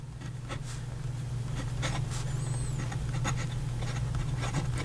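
A fountain pen with a fine steel nib writing in St. DuPont Royal Blue ink scratches across paper in short, repeated strokes, close and soft over a steady low hum.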